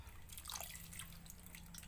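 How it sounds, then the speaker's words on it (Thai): Yanang leaf juice is poured into a pot of boiled water while cooking fresh bamboo shoot curry, a close trickling and dripping of liquid lasting a couple of seconds, with no one speaking. "เฮาก็เทน้ำยานางลงไปเลย ใส่ในน้ำใหม่ที่ เฮาต้มแล้วเนาะ"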